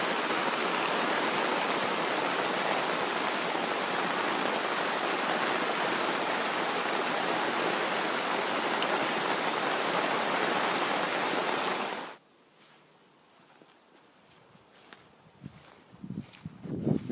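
Torrential rain hammers a canvas tent in a dense, steady roar of close hiss that cuts off abruptly after about twelve seconds, followed by quiet with scattered drips and small knocks.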